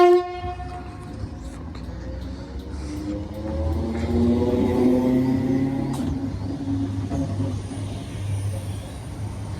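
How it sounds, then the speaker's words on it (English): Two coupled Class 318 electric trains depart Motherwell station bound for Glasgow, opening with a sharp two-tone horn blast, then a rising motor whine and rumble as the units pull away nearby. "now departing is 318262 and 318270, heading off to Glasgow"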